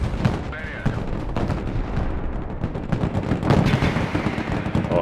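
Dense gunfire mixed with booming artillery blasts in the military strategy game Broken Arrow, loud and chaotic with overlapping shots and heavy impacts, a voice faintly present underneath.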